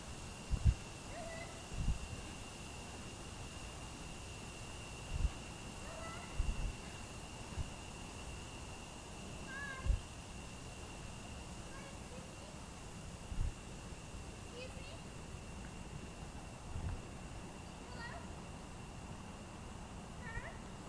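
A cat gives a series of faint, scattered meows against a steady background hiss, with occasional knocks and soft thumps between the calls.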